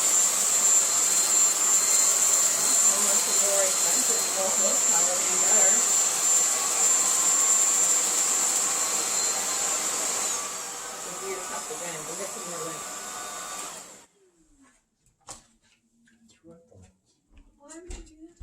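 An APOSEN H251 24kPa cordless vacuum cleaner runs on a rug with a loud, steady high-pitched whine and airy rush, then cuts off abruptly near the end, leaving a few faint bumps and handling sounds.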